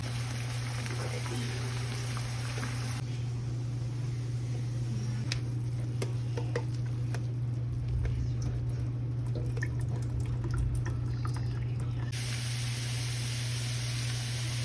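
Ground meat for a Philly cheesesteak sloppy joe cooking in a pan on a stovetop set to 6, a steady close sizzle with scattered pops and light scraping, beneath a constant low hum.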